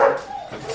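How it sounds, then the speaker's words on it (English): A single short bark and whimper from a dog indoors, fairly close and brief, tailing off quickly. "The dogs are going to interrupt our video."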